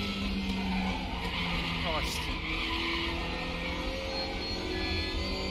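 A car spins out and skids during a race in a racing video game, with a steady engine drone throughout and a short tire squeal partway through, while a voice talks over it.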